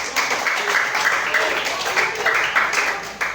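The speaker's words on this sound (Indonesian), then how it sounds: "Tepuk tangan untuk kelompok yang lain." A fifth-grade classroom full of students clapping steadily, dense and continuous, with some voices mixed in.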